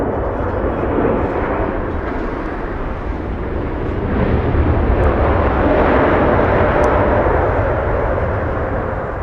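A Boeing 777 inbound from Tokyo Haneda roars into Los Angeles International Airport as a loud, broad, continuous jet rumble that holds steady and swells slightly toward the end, with faint voices in the background.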